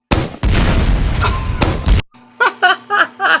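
Grenade launcher blasts in a video game, a pair of heavy booming explosions in quick succession, followed by a few short laughing or snickering voice bursts.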